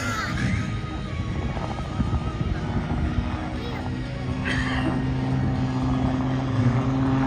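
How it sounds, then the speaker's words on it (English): An autogyro performing an airshow display, its propeller engine droning steadily throughout with a low hum and passing whine, mixed with some wind and background noise. "It's a VTOL air, it's a very short takeoff and landing aircraft"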